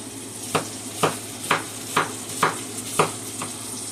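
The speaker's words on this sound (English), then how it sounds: "So now I'm going to go ahead and add my onion to the pan, get those cooked down." Onions sizzle in a pan under a regular series of about seven sharp taps and scrapes roughly half a second apart, like a utensil striking the pan, close by with no speech.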